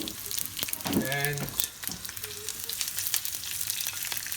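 Curry leaves and green chilies hit hot oil with a bright sizzle and spatter that settles into steady frying hiss, while a person speaks briefly over it.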